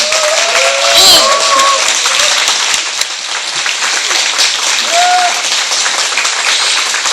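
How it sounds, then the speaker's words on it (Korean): Loud crowd applause greeting a guest speaker at a political talk event, dense clapping from many hands sustained throughout, with faint tonal sounds and murmurs mixed in. "큰 박수로 맞아주시기 바랍니다"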